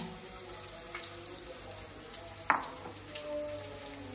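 Onions go into hot oil with dried chili and garlic, making a soft, steady sizzle with faint stirring and one sharp utensil clank partway through.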